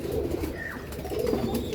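Soft pigeon coos repeat at low pitch in a pigeon loft over a steady murmur of background noise, with a brief chirp partway through.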